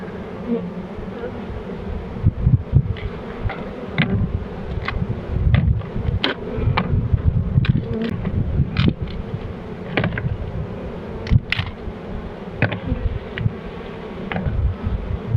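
Bees buzz densely and close at an abandoned apiary, a constant droning swarm with occasional sharp clicks and knocks of wooden hive frames being handled.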